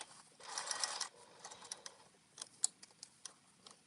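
A sewing machine stitching a wallet, including a reverse stitch: a short buzzing run followed by scattered quiet mechanical clicks and taps, close and faint.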